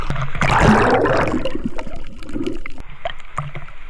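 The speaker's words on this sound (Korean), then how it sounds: "와 파도 장난 아니다. 살벌하다." Loud rushing ocean waves surge and splash close by on a beach, then recede into gurgling and trickling sounds.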